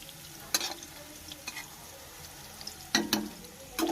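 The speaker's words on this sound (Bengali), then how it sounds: "যখন আমার আলু আর পেঁয়াজটা ঠিক এরকম লাল লাল হয়ে আসবে" Potatoes and onions fry in a pan for chowmein, a soft background sizzle broken by several sharp scraping stirs, clustered near the end.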